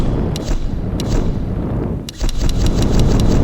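Gunfire in the Tomb Raider reboot video game: sharp repeated shots crack over a dense, rumbling combat backdrop, with a quick cluster of reports near the end.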